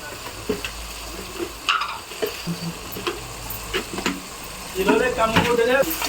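Meal maker pulao masala with chilli and salt is stirred in a pan, producing scattered scraping taps and a soft sizzle beneath a voice talking throughout.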